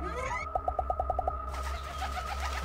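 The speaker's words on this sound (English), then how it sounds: "From the sound of that, I thought there was more birds." A bird in the video game Sprout coos, a rapid run of about eight soft, pigeon-like notes repeated evenly over a steady game background, with no speech.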